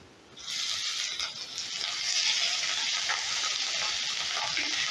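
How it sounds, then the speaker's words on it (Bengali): Ginger sizzles as it fries in hot oil for a tomato biulir (urad) dal, a steady, bright crackling hiss that starts abruptly after a short quiet moment and holds loud and even throughout, with no voices. "আদাটা কিন্তু হালকা করে ভেজে নেবে"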